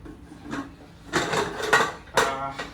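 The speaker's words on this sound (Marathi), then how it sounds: "झाकण लाव." A metal lid set onto a pot of biryani in a home kitchen, giving a few light clanks and scrapes at close range, with quiet household sounds between them.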